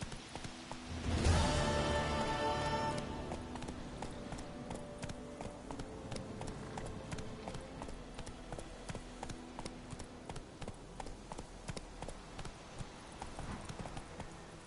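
Horse hooves in The Witcher 3 on PlayStation 4 beat in a steady galloping clip-clop, close and regular, after a louder rush of movement at the start.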